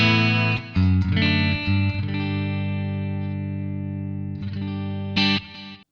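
Electric guitar run through Ableton's Amp simulator with a 4x12 cabinet: a gritty, distorted chord is struck several times and then left to ring, with a final bright strum near the end.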